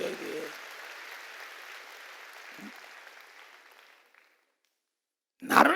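A church congregation applauds during a service, a steady wash of clapping that fades out near the end, with a brief burst of voices at the close.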